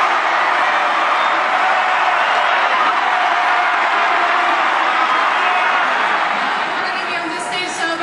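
A packed stadium crowd roars steadily during a men's 4x100 m relay, a continuous loud wash of cheering with no letup, plus a few faint whistles near the end.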